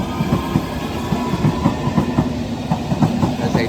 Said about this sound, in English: Departing now is the Hammersmith City line says to Hammersmith.